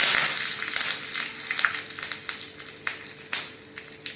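Curry leaves crackle and sizzle in hot oil for a radish carrot sambar, a close, steady frying hiss dotted with sharp pops and spits throughout.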